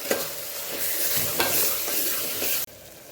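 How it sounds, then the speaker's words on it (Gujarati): A spoon stirs sama rice khichdi with curd in a pan, scraping rhythmically through a soft sizzle in a few sweeping strokes, close and clear before stopping abruptly. "સરસ આપણે પાછું સાંકળી લઈશું"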